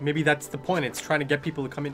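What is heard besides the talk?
No everyday noises stand out.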